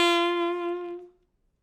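A single sustained instrumental tone from a jazz line that articulates only the downbeats, held steady and bright for about a second before it cuts off into silence.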